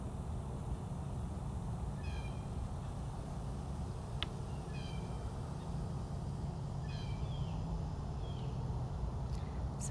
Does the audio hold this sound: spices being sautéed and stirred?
no